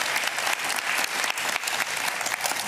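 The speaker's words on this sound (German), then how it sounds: "Ein Applaus für eine perfekte Gewürzmilch, bitte." A studio audience on a cooking competition show claps briskly in a sustained burst of applause, fairly close and steady, with no voices over it.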